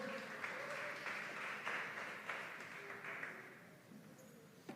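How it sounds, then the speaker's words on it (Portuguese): Church congregation applauding as people sit down, a fairly faint, sustained patter of many hands with a few louder claps standing out, continuing evenly throughout with little talk. "Pode sentar aplaudindo aí o Senhor."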